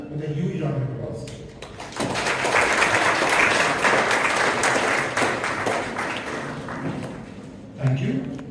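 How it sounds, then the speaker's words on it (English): Audience at an event welcoming a keynote speaker with a sustained burst of applause lasting about six seconds, dense clapping filling the hall between voices talking before and after. "our keynote speaker, Advocate Ishani Sapkar, with a huge round of applause."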